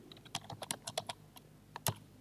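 Quick keystrokes on a computer keyboard while typing a database query, an irregular run of close, crisp clicks that pauses briefly and then ends with a louder final tap.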